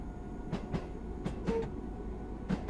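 A simulated train runs on the Cathcart Circle Line between Newton and Neilston near Glasgow in Train Sim World 2, a steady low rumble punctuated by sharp, evenly spaced clacks of wheels over rail joints, with no talking.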